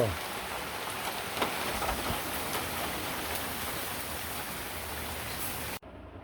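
Steady, dense rain drumming hard on a tin roof, a constant loud hiss with scattered sharper drops, cutting off abruptly at the end.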